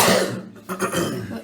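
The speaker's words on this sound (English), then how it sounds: "That was a cough." A single close, loud cough during a tabletop D&D session, followed by a low voice speaking.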